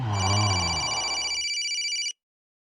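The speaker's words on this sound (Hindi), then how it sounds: "अरे कौन है यार, इतना रात में फोन किया है।" A telephone rings at night with a single continuous electronic bell tone, high and steady, sounding loud and near; a low rumble fades out underneath partway through, and no one speaks.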